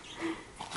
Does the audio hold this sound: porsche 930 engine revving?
no